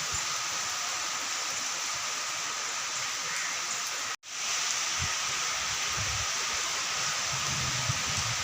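Heavy rain pours down with cool wind, making a dense, constant hiss close by. The wash of sound briefly cuts out once midway, then resumes.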